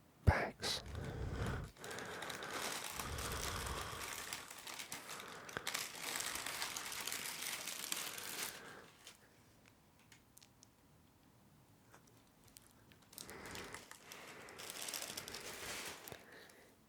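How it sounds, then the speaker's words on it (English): Plastic bags crinkle and rustle close by in bursts, loud handling broken by quieter pauses with faint ticks, then another spell of crumpling near the end. "This is just some plastic bags."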